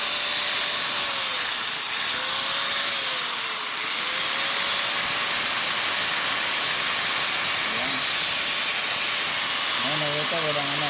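An electric motor fitted with new carbon brushes runs steadily, a loud continuous whirring hiss with a faint tonal whine, while someone talks over it.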